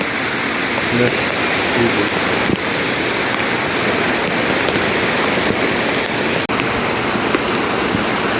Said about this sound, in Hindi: ये रहा वो जी झरना, ये भी ग्लेशियर से ढका रहता है